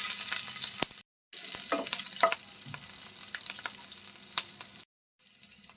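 Green chillies and five-spice seeds fry in hot non-mustard oil for an eggplant yogurt curry, a steady close sizzle with occasional stirring clicks and brief silent gaps.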